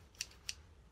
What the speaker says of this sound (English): So you can use just scissors to cut it.